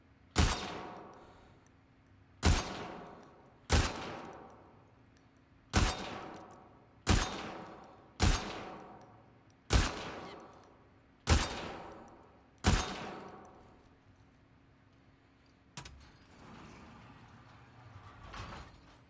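Single gunshots fire one at a time in The Last of Us Part 2, nine sharp loud cracks spaced about a second and a half apart, each trailing off in a fading echo.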